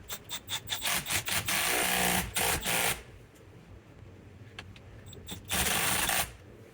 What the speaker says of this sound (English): we can go ahead and put the bolt that holds it in there and tighten that up